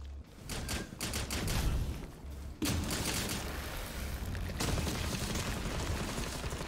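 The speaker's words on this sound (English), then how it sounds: "Aim at the anchor points and shoot when they open." Gunfire in the video game Rainbow Six Extraction, rapid bursts of automatic shots in quick succession, loud and sustained with brief breaks between volleys.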